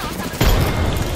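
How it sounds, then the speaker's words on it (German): A sudden burst of gunfire erupts partway through, a dense booming volley against a noisy background, in Apex Legends. "hier haben wir Schüsse gehört"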